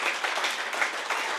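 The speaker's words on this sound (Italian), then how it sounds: "facciamo un applauso alla sposa per l'incoraggiamento" Wedding guests applaud the bride with a dense, continuous patter of many hands clapping together for a short burst.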